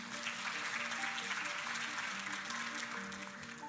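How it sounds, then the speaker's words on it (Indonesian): A congregation at a year-end Christian worship service applauds in a steady, fairly distant wash of clapping, with a sustained musical tone humming underneath. "Boleh kita kasih tepuk tangan."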